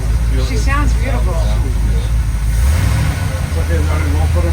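A 1954 Chris Craft Commander Express boat engine idles loud and close with a deep, rumbling hot-rod burble, its pitch dropping partway through as people talk over it.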